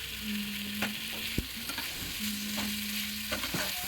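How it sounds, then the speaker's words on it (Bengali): Pressure-cooked mixed winter vegetables, drained with a ladle, stirred into a frying masala; steady sizzle with scraping stirs and a sharp clack of the ladle, close and alone. "সেই সবজিগুলোকে আমি হাতার সাহায্যে একটু জল ঝরিয়ে তুলে ওই মশলার মধ্যে দিয়ে দিচ্ছি"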